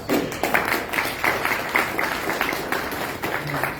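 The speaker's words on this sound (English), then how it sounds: "Another round of applause for everyone." An audience at a panel on data-center energy needs applauds steadily, a dense sustained clapping from many hands filling the room at moderate loudness with a few brief louder swells, with no one speaking over it.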